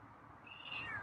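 A feral cat gives a single faint meow, a short rising-then-falling cry in a quiet room, with no talking over it.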